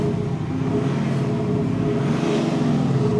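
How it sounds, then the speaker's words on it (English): 2023 Land Rover Defender 90 with a 3.0 D300 diesel engine and Quicksilver exhaust, revving with a deep, steady, throaty rumble, close and loud, no talking. "let me rev this car, because I've just watched a video on how Quicksilver do these exhausts"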